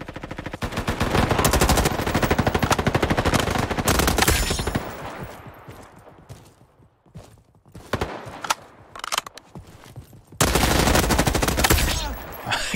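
Loud rapid automatic gunfire in a first-person shooter video game, long sustained bursts at the start and end with scattered shots and quieter gaps between.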